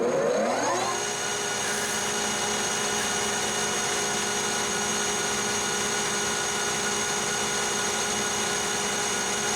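Metal lathe turning tempered CrMo 4140 steel at high speed, about 1120 RPM with a 25-thousandths cut, giving a steady close whine and hum with a rising tone at the start, continuous and alone.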